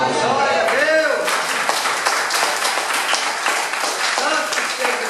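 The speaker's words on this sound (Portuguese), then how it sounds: "Quem entendeu, diga glória a Deus e aplauda o Senhor." A church congregation breaks into loud, steady applause after a sermon line, dense clapping filling the room while voices shout and cheer over it throughout.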